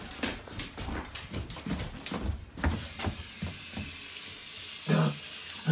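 A water tap runs into a sink while someone rinses hot sauce out of their nose, giving a close, steady rushing hiss that starts partway through after a stretch of scattered clatter and whimpering sounds.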